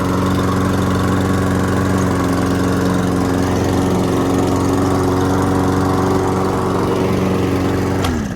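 An older lawn mower engine runs at a steady, loud idle with a droning hum, then winds down near the end.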